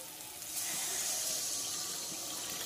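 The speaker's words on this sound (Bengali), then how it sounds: "চলো এবার আমি সামান্য জল দিয়ে দিই।" A small amount of water poured into a pan of Bombay duck (lote fish) curry on the stove, a steady close hiss and splash that starts suddenly and continues evenly.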